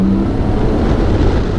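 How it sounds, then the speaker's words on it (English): A 2022 BMW K1600 GT motorcycle's engine in dynamic mode gives a loud, dense roar with induction noise, heard close and continuous for a brief stretch with no talking. "the engine, the induction noise, it just roars in dynamic mode"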